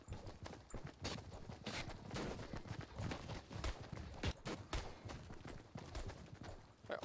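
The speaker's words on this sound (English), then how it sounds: "All I hear is footsteps." Rapid footsteps from a crowded Fortnite match at Tilted Towers, a dense, continuous patter of many steps at once, loud and close with no talk over it.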